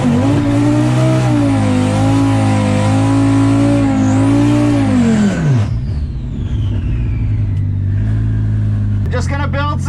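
A twin-turbo drag car engine roars loudly at launch, its pitch wavering as it builds boost, then drops and settles into a rough rumble before another sharp rev; people speak throughout.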